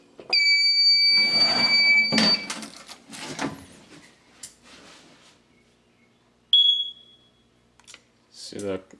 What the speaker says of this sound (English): see the CO detector kicked off